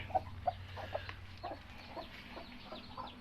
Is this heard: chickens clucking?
yes